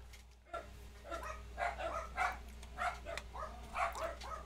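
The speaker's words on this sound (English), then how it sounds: "How loud are the dogs, guys?" Several dogs bark in a rhythmic series of rough, moderately distant barks over a low steady hum, with no voices over them.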